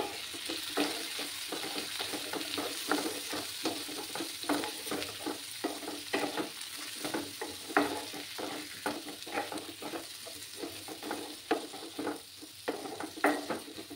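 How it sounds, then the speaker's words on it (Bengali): Potatoes and onions with turmeric powder frying in a pan for a Bengali small-fish chorchori, a soft continuous sizzle broken by frequent scraping stirs of a utensil against the pan, close up, no talking. "আলুগুলোকে আমি ভালো করে পেঁয়াজের সাথেই ফ্রাই করে নেব।"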